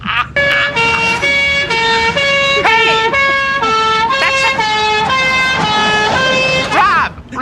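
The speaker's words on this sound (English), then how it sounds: "French police car." French police car siren wailing in its two-tone pattern, loud and close, repeating steadily with traffic rumble underneath.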